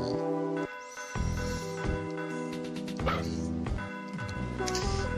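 A dog barking at a doghouse in the video game Mother 3, several short yips and whimpers set over looping game music, with a voice talking faintly underneath.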